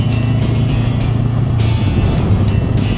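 A Honda NX500 motorcycle cruises along the Blue Ridge Parkway in strong wind, its steady engine note buried in a continuous, loud roar of wind and road noise, with no talking.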